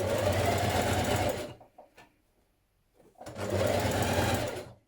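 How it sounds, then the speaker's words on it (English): A sewing machine stitches single-fold hems on coat sleeves, running loud and steady in two long bursts with a quiet pause between them. "And now you're going to hem your sleeves."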